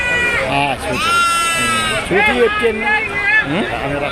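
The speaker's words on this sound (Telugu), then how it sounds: "ఇదో గొర్రెలు సూటి గొర్రెలు పాడి గొర్రెలు ఉంటాయి" Sheep bleat loudly and close by at a weekly sheep and goat market in Ongole district, several overlapping, wavering calls following one another over a busy background.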